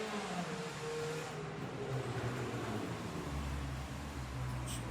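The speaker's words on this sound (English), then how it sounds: "It's the worst car in the world just drove by" A car passes by with a low, rising then fading engine rumble over steady background noise, no talking.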